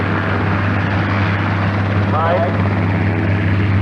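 A model airplane at a 1995 airshow drones steadily overhead, a loud continuous engine buzz heard under nearby spectator talk.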